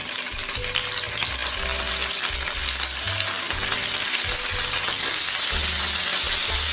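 Paneer cubes fry in hot oil in a pan for pulao, a loud, dense and continuous sizzle that is close up and fills the whole stretch without any talking.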